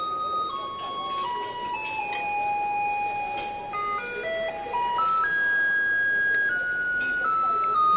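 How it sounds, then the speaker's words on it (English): A garbage truck passing on a street in Taiwan, playing a loud, tuneful jingle of sustained notes as it goes by, over street noise. "That's a trash truck, and right behind it is the recycling truck."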